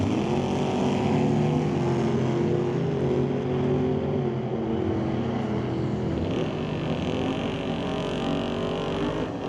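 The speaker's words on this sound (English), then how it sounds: "So Lorenz Shorts driving the 83 Monte Carlo" Drag race at the Doorwarz XIII Sunday eliminations between a 1983 Monte Carlo and a 1934 Roadster: a loud, steady roar of racing engines fills the whole stretch without a break.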